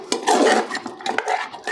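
Mutton being sautéed with spices in a pot, heard as close, sharp clatters and scrapes of a metal spoon stirring against the vessel in a brief burst.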